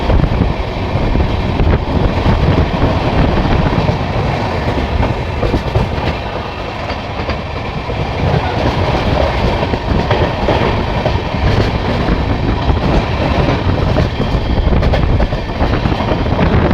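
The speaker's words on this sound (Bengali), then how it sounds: "হাওড়া থেকে ছাড়ার পর ট্রেন বেশ ভালো স্পিডে চলছে" Inside an AC economy coach of the Howrah–Darbhanga Express running at speed, a loud, constant rumble fills the car, laced with rapid rail clatter and airy rushing noise throughout.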